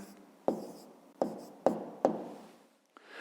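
Handwriting on paper, four distinct scratchy pen strokes, each fading quickly, followed by a softer fifth. The writing is close and quiet, with no voices over it.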